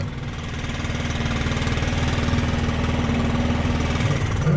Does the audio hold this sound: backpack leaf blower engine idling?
yes